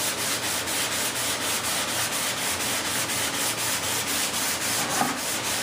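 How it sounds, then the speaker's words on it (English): Bondo body filler being sanded during bodywork on car wings: a steady, continuous abrasive rubbing with fast, even back-and-forth strokes, close and fairly loud, with no talk. "Now this is pretty important not to oversand this stuff"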